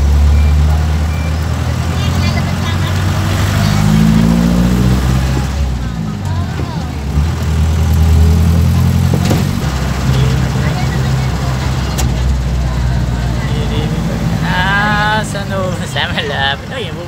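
Jeepney engine rumbling steadily throughout a ride toward San Antonio, with road noise and people talking over it, and a few brief higher whines and tones near the end.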